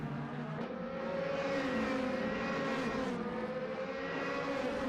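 A DTM racing car engine in the video game Assetto Corsa, from a United Racing Design mod, drones at high revs, pitch shifting slightly as it holds a steady, continuous roar with no talking.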